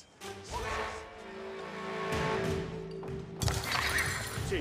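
Horses in the video game Age of Empires IV whinny over game sound effects, with a sustained neigh followed by a sharper burst of clattering impact noise near the end.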